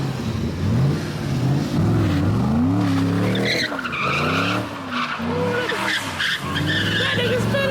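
A car spins out at an early-morning street takeover, its tires screeching and skidding continuously alongside a revving engine, loud and close, with people shouting and talking excitedly over it.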